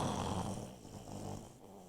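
A church preacher imitates loud snoring with a single drawn-out, rasping snore lasting under two seconds. It is close and fairly loud, with the congregation's hall ambience behind it.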